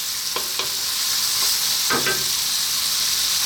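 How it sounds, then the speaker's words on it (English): Onions, garlic and carrots sauté in a pan for a lentil vegetable stew, giving a steady broadband sizzle with a few scraping stirs of a utensil near the start and middle, close and alone with no talking. "just giving these onions, garlic and carrots a little bit of a head start"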